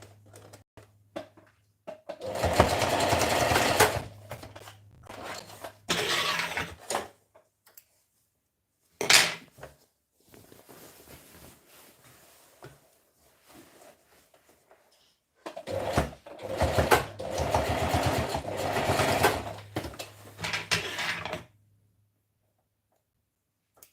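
A home sewing machine runs in several separate bursts of a few seconds each, close and fairly loud, with quiet pauses and small handling clicks between the stitching runs.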